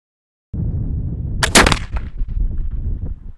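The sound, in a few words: Kibler Colonial muzzleloading rifle shot, 100 grains 2F powder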